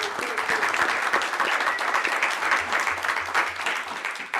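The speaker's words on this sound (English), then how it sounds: "please stand and give her a round of applause." An audience at a regular city commission meeting gives sustained applause, a dense, even wash of many hands clapping indoors at moderate volume, with a faint low hum underneath.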